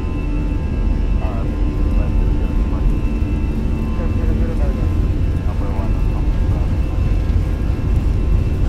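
An Airbus A320 in Flight Simulator 2020 at takeoff thrust on the runway at Ibiza, giving a loud, steady jet roar with a constant tonal whine that sustains throughout, with brief voices over it.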